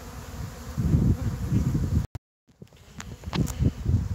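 Honeybees buzz in a dense, steady drone around an open spring hive on a windy day, the hum close and continuous, broken by a brief dropout before the swarm noise swells back with sharper passing buzzes.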